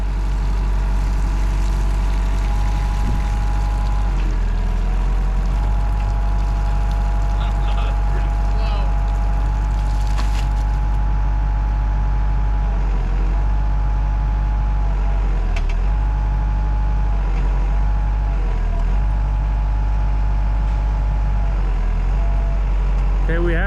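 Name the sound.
Hitachi excavator engine running while driving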